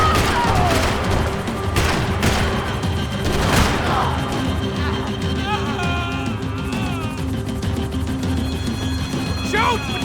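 Gunfire in the video game Max Payne 3, with a few loud sharp shots in the first few seconds amid a dense, noisy game soundscape, followed by shouted voices and background clatter.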